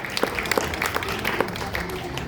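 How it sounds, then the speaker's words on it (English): Audience applause at a SeaWorld San Diego conservation ambassadors animal show: a steady wash of many hands clapping from a crowd, continuous and fairly even for a couple of seconds, with some individual claps standing out. "let's just make a round of applause"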